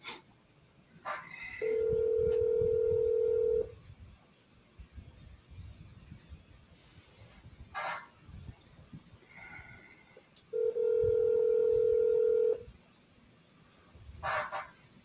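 A telephone call in progress: two steady tones of about two seconds each, separated by a gap with clicks and faint background noise, like a line ringing out unanswered.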